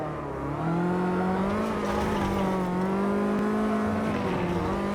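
A car engine drones steadily in a racing video game, its pitch rising and falling with throttle changes as the tires slide. The sound is loud and continuous, with no talking.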